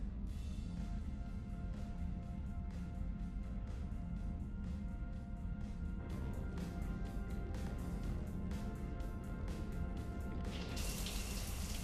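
Steady shower water running in a video game, a continuous broadband hiss and patter with a brighter spray toward the end, heard alone without talk.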